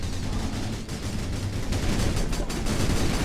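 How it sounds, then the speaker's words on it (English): Dense gunfire in a firefight in the video game Battalion Wars, loud overlapping rapid shots and booming blasts crackling continuously without a break. "now that's what I call a firefight"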